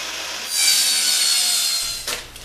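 Skis being sawn to length, a steady close rasping saw stroke through wood lasting about two seconds, then a few brief scraping knocks as the cut finishes.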